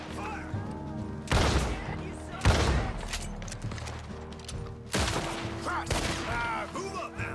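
Gunshots in the video game Red Dead Redemption 2: four loud, sharp blasts spaced a second or more apart, each leaving a short rumbling tail, with a voice talking in the gaps.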